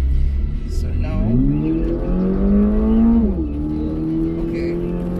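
A 2023 Toyota GR86's 2.4-litre engine revs up in a loud, rising pull that swells, briefly eases, then climbs again before settling to a steadier drone, heard up close from inside the car.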